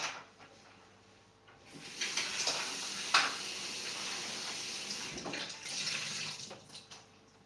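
Tap water runs in a kitchen while paprika and onions are rinsed. The steady splashing stream is fairly close and gets louder as the food goes under it, with brief clatters and gurgles.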